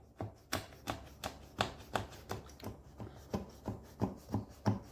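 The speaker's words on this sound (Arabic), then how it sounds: "نقطع الصينية كلها" A knife slices through a tray of layered galash pastry with nuts, making a steady series of crisp, close cutting strokes, roughly two or three per second, with no voices.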